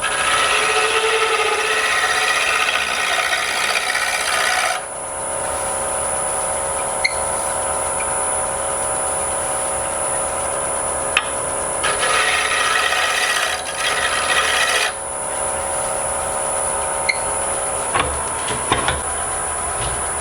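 Steady, continuous rasping of sandpaper rubbed over a wooden key ring, working up through the grits from 60, close and loud with a constant high whine underneath and a brief change in texture partway through.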